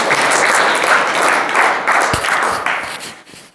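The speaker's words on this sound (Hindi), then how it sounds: "एक बार जोरदार ताली के साथ में सब" Audience at an honour ceremony for an IAS officer clapping loudly in a dense, sustained burst of applause that slowly tapers off.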